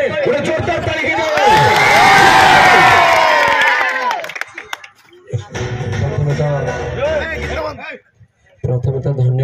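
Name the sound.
loud applause and cheering at cricket tournament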